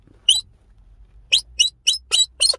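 Small wild birds at Encounter Bay around sunset give six sharp, high chirps: one early, then five in a quick, fairly regular run. They sound close and clear against a quiet background with a low rumble, and nobody speaks.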